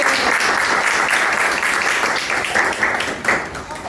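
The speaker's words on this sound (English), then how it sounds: "A round of applause." A group at a qi gong meditation session gives a round of applause, loud, close, continuous clapping from many hands that eases slightly toward the end.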